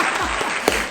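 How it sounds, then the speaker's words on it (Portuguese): Applause from a group during a Brazilian political commentary segment, a dense burst of clapping filling the whole second at steady loudness with a sharper clap near the end. "Como diria a Janja, uma salva de palmas para esse advogado"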